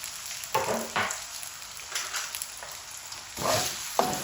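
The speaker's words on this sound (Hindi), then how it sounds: "इनको 2-3 मिनट ऑयल में फ्राई कर लेंगे" Potatoes frying in oil in a pan for keema, a steady close sizzle with occasional bursts of stirring and scraping.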